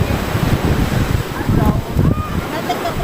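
Sea waves at Anda Beach wash and rumble steadily, mixed with gusty wind buffeting the microphone, a continuous loud surf texture with a voice faintly underneath.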